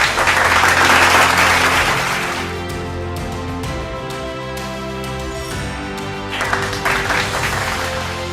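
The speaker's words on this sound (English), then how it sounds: "with a generous round of applause" Audience applause at an award ceremony, a loud burst that fades into sustained music-like tones, then swells again near the end.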